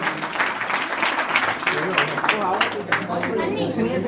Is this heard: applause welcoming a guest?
yes